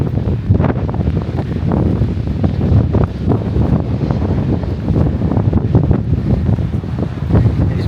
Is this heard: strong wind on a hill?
yes